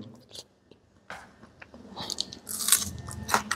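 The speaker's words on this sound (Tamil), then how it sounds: "கூடவே இந்த வெங்காயத்தையும் கடிச்சிக்கிறது ரொம்ப டேஸ்ட்டாகவும் இருக்குது" Someone bites and chews ragi kali along with raw onion, close crisp crunches and chewing sounds building toward the end, with no talking.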